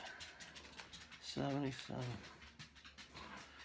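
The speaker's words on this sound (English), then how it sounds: "that's the sound of Drew the dog coming upstairs." Drew the dog climbing the stairs indoors and panting, with a few quick, rhythmic breaths close by amid faint household noise, while a person speaks briefly.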